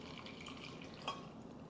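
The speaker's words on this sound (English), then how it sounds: "So when you pour the hot water in," Hot water poured over red clover tea in an infuser, a soft, faint trickle and splash of liquid lasting a moment.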